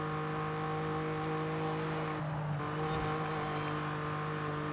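An underpowered limousine in Forza Horizon 5 drones along with a steady, fairly quiet engine hum, its pitch dipping briefly midway as the throttle lifts, then resuming.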